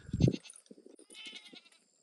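A goat bleats loudly once, then fainter, shakier bleats follow in a quick wavering series, close by with no talking.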